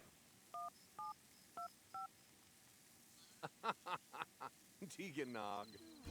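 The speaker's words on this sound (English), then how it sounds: "we might as well have William pick up the phone here and end it a little early" Mobile phone picked up and dialed in The Sims 3, four electronic keypad beeps evenly spaced, then a quick run of clicks and chirps and a swelling electronic tone, close and clear.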